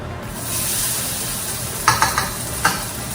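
Onions hit hot oil in a pan over low to medium heat, setting off a loud, continuous sizzle and hiss, with several quick clatters of a utensil against the pan near the end.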